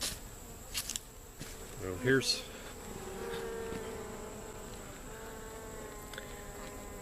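Honey bees buzz in a hive during an inspection, a faint steady drone under a few soft handling knocks and a brief spoken word.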